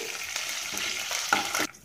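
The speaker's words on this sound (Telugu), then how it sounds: "అలాగే ఎండుమిర్చి కరివేపాకు కూడా వేసుకుని దోరగా వేయించుకోవాలండి" Garlic, cumin, mustard seeds, dried red chilli and curry leaves fry in hot oil as a tempering for sambar, a close crackling sizzle with stirring that stops abruptly near the end.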